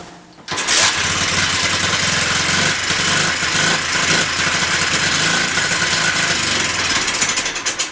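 Honda Z50 clone motorbike with a carburetor fuel problem running close by, a loud, rough, rattling single-cylinder chatter that starts abruptly and holds steady, slightly uneven in rhythm.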